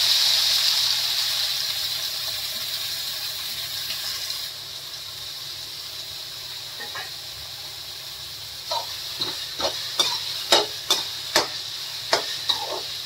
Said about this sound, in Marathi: आता याच्यात टाकूया आपण कांदा चॉप करून घेतलाय तो